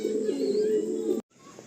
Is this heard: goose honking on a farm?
no